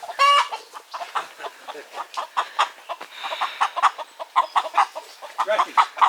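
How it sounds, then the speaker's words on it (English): Chickens squawk and cluck in sharp bursts while the flock attacks a hen. The calls come in rapid, irregular bursts and are close and fairly loud throughout. "the other chickens are attacking"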